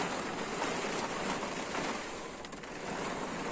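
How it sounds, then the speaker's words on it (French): Heavy, wind-driven sideways rain pours steadily, a dense continuous hiss that eases slightly toward the end, with water streaming around a parked motorhome and no voices. "on a une belle pluie battante de côté qui est en train de se calmer"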